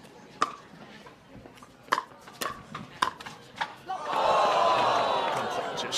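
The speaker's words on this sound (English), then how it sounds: "Just short, the crowd reacts here in St. George" Pickleball paddle pops trade back and forth at a women's doubles match in St. George, Utah, then the crowd erupts into a loud sustained cheer and shouts after a short shot.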